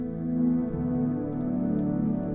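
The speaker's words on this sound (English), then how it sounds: "Let's give that some bisexual reverb." Synth tone drenched in heavy reverb, a sustained distorted drone with long smeared tail washing out continuously, a few faint high clicks on top, no voice.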